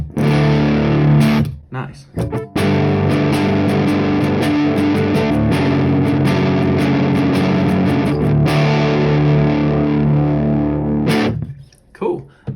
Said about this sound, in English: There's the fuzz sound.